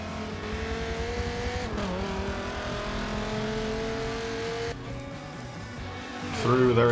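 Race cars on track at Long Beach in Forza Motorsport 7, engines droning and shifting pitch through gear changes, ending in a louder rev, with steady commentary running over them.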